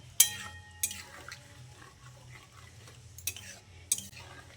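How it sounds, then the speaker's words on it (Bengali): Bottle gourd mixed with a blended liquid being stirred in a pan, giving a few sharp spoon scrapes and clacks against the metal over a soft, steady kitchen background. "দিয়ে লাউয়ের সঙ্গে খুব ভালো করে মিশিয়ে নিচ্ছি"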